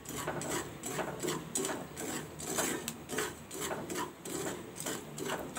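Chickpeas roasting in hot salt in a pan are stirred continuously, giving a steady gritty scraping and rustling with rhythmic pulses of grains sliding against the metal, close and moderately loud with no talking.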